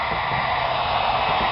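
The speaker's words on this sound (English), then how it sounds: "We're going to use the heat gun to get those fingers out and make it look flawless." A heat gun blows steadily across vinyl tint film on a 2014-2015 Camaro tail light, a close, continuous airy roar that holds even throughout with no pauses or talk.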